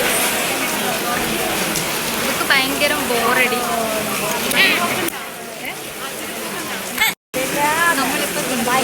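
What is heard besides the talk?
heavy rain at a temple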